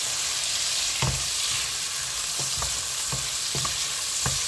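Red onion frying in a pan, a bright continuous sizzle up close with intermittent knocks and scrapes of a utensil stirring, no talking.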